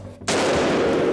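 A single sharp shotgun blast at clay skeet targets bursts in after a brief hush and rings out loud and close, its noisy tail filling the rest of the moment.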